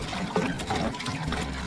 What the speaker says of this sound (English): We're filling up the tank with water.